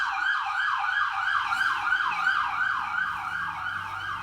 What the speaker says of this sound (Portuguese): Peço perdão pelo barulho que eu moro na avenida.